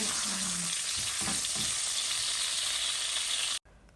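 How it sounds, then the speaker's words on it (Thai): Wild garlic stir-fried in a hot pan gives a loud, continuous hiss and crackle with faint scraping of stirring, then cuts off abruptly near the end. "นี่ผัดกระเทียมป่าจ้ะ"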